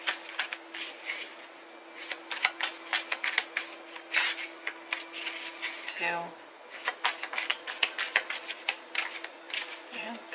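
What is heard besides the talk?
shuffling tarot cards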